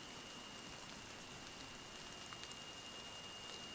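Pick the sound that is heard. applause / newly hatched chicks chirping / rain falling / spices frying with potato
rain falling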